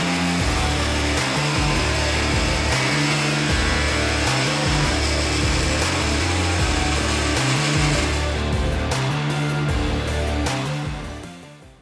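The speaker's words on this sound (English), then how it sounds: "we're gonna put them on a little jig, and we're gonna send them through the planer to flatten them out" Thickness planer flattening black ash and pine boards set on a jig, a loud continuous roaring whine with pulsing cutter load that runs nearly twelve seconds before winding down.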